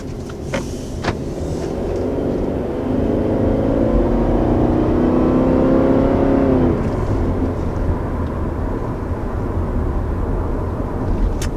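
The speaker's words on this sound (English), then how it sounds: "So there's our first acceleration in the 2020 Forester." Interior drone of a 2020 Subaru Forester with its 2-liter Boxer four-cylinder accelerating, a steady engine hum rising in pitch over several seconds before easing back into road noise.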